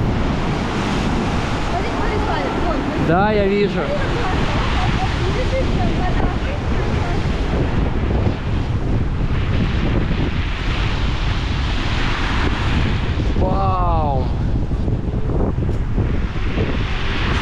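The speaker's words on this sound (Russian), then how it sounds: "Вот сейчас, наверное, волна будет очень серьезная." Heavy storm surf roars continuously at Divnomorskoye on the Black Sea coast, strong wind buffeting the microphone, waves breaking nearby against a breakwater; brief voices speak over the din.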